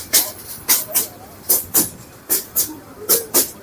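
A passenger train, the Egarosindhur Provati near Kishoreganj, runs along its track with a steady rhythm of paired wheel clacks, each about half a second apart, heard fairly close over a background hiss.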